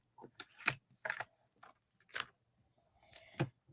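Paper being cut with a blade or scissors while making a Christmas card, a few separate crisp snips and slices at close range with quiet gaps between, no talking.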